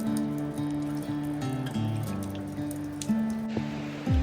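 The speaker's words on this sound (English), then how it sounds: "it has been non-stop rain in the valley" Rain dripping steadily in a mountain valley of New Zealand's Southern Alps during a prolonged downpour, with close, irregular drops and a light trickle over a steady wet background hum.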